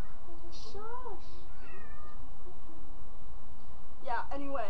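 A fussy house cat meows close by several times, with rising and falling drawn-out cries and a higher, tighter call near the end, over a steady background hiss.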